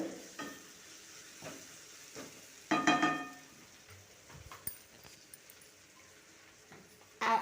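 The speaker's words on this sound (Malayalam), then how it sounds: "തക്കാളി ഉള്ളിയൊക്കെ നല്ലോണം ഒന്ന് വഴന്ന് വരണം" Tomatoes and onions sautéing in a pan for a Kerala-style curry, a faint steady sizzle broken by a few scraping stirs and one louder clatter, close and quiet, with no voices.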